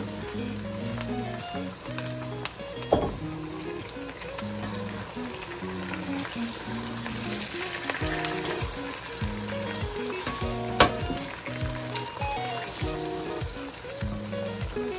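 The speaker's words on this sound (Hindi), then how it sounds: "अब मैं इसको थोड़ी देर फ्राई करती हूँ। अभी इसकी भुनाई हो रही है" One kilogram of beef browns in a pot for biryani, a steady, moderate sizzle and crackle of frying with occasional stirring clinks, and no talking.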